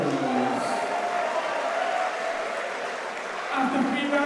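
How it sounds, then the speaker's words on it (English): Audience applause and crowd noise for both fighters after a boxing bout, a steady wash of clapping from a crowd, with a voice over it at the start and end. "please have a round of applause for both of our fighters"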